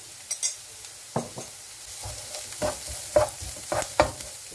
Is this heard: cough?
no